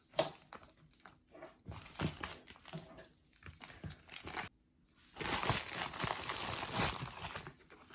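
Crinkly plastic packaging is torn and crumpled open to reach a compact Sofirn HS10 headlamp box, with scattered rustles early, a brief pause, then a loud, dense burst of crackling close by.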